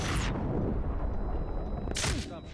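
Gunfire from the video game Medal of Honor: Warfighter: loud, dense bursts of shots and booms fill the scene, with a sharp blast near the start and another near the end, while a voice talks over it.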